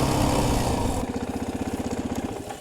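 Motorcycle engine revving hard while riding through sand, a loud close roar that drops at about one second into a pulsing, chugging engine note as the bike carries on.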